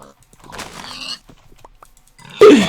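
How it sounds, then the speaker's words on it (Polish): Pigs grunting in Minecraft, short snorting grunts that start faint and end in a sudden loud, close squealing grunt. "Świnioki!"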